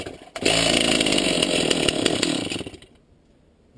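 With brake, choke and decompressor set, a chainsaw engine bursts loudly into life for about two seconds of harsh, rasping roar, then sputters out into near silence.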